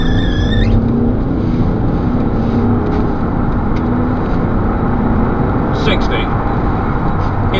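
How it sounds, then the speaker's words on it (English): A 2009 Mercedes E-Class with a 3.0-litre engine accelerates hard from a standstill, its engine a steady, muted drone heard from inside the cabin, with a brief voice at the start. "Now 0 to 60 test, 3, 2, 1,"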